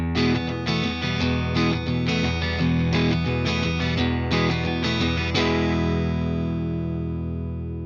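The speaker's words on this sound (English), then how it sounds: "here's the 65 Deluxe Reverb Blonde at default settings" Electric guitar through a Fender Tone Master Pro 65 Deluxe Reverb Blonde amp model at default settings, with no extra effects: a run of strummed, sustained chords ringing out clean and full, with the last chord left to decay.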